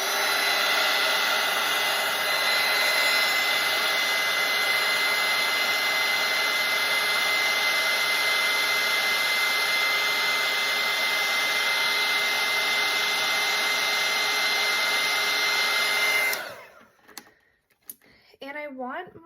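A hair dryer blows steadily and loudly over a wet daffodil painting for about sixteen seconds, then cuts off abruptly, leaving faint brush and handling sounds.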